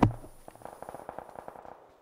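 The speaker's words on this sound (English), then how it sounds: "There's a lot of gunfire back here." Gunfire in the video game PUBG Battlegrounds: a sharp close shot followed by a rapid, fairly even burst of fainter distant cracks, tapering off within about two seconds.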